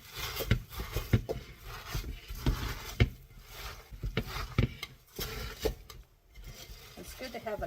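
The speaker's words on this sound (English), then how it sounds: "It's good to have a sharp spoon to get to those corners." A sharp spoon scrapes and knocks a sticky Rice Krispies Treats and dark chocolate mix into the corners of a pan, giving repeated close scraping and tapping strokes in an irregular rhythm.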